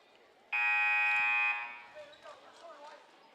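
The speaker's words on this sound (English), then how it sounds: "First buzzer on that timeout." A scoreboard buzzer blares one loud, steady tone for about a second to signal a timeout at a junior varsity boys basketball game, then gym chatter and a voice continue faintly.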